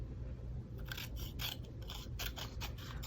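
Scissors snip through card for a paper-crafting project, a quick series of crisp, quiet cuts and blade scrapes in an otherwise still room.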